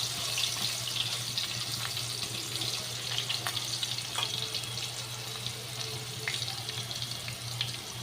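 Potatoes frying in a pan for a Bengali katla fish curry with potato and eggplant, a steady sizzle with faint clinks, close and continuous without talk.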